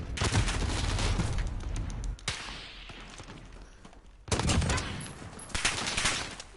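Rapid Dragunov rifle shots in a shooting video game, loud bursts of gunfire early and again near the end with a quieter stretch between.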